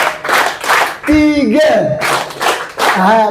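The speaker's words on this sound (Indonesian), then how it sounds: "Tepuk 1, tepuk 2, tepuk 3." Class in an Arabic lesson clapping in counted patterns, short bursts of group claps separated by pauses, with children's voices chanting and shouting between and over the claps.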